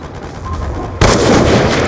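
Gunfire in a video game as a player shoots through a wall: a loud, dense burst erupts about halfway through and keeps going to the end, following a softer stretch of background game noise.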